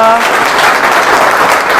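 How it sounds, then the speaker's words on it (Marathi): Loud, dense audience applause fills the room steadily throughout, a crowd clapping together at a Marathi MPSC quiz show in Latur after a contestant's correct answer. "जोरदार टाळ्या होऊ द्या"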